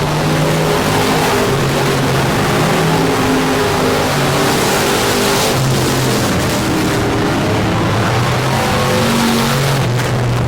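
Race cars roar through a heat race at Texarkana 67 Speedway, including the 85 Outlaw race car, a loud continuous engine drone that holds steady throughout with overlapping revving.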